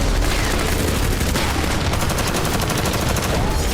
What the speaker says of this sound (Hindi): लोग मोबाइल फोन से वीडियो बनाने लगे और फिर शुरू हुआ धमाकों का दौर